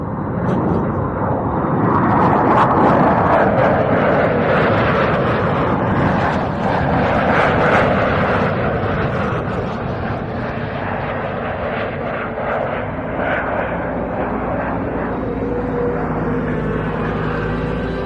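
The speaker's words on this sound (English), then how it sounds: "These two glorious F4E Phantom 2s from 111 Philo of the" Two Turkish Air Force F-4E Phantom II jets pass overhead at RAF Fairford, a loud, rough, sustained jet roar that peaks early and slowly fades as they fly on, with no talk over it.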